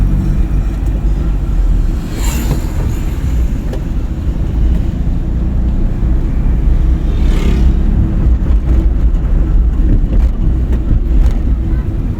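A car drives along during a driving lesson, with a steady low engine and road rumble running throughout, loud and close, and a couple of brief clicks or shifts in between.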